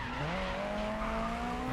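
Race car in the GRID Legends video game braking hard into a corner, engine note dropping as tires squeal, loud and steady throughout the short burst.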